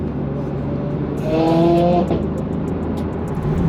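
A powerful car engine roars loudly, revving up to a high-pitched whine before easing back, close by with constant road noise.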